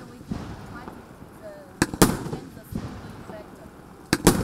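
A Palm Beach EP-5010A firework cake, a 38 mm 25-shot item, fires a few sharp cracking shots spaced apart over steady background noise, with voices faintly present.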